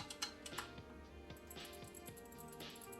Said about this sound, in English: It's got clicky little buttons.